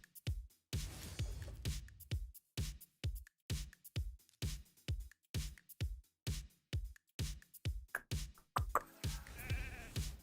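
A run of about twenty sharp sheep bleats from a sheep polymorph spell in an arena video game, fired in quick close succession with short gaps between them, ending in a burst of mixed game effects.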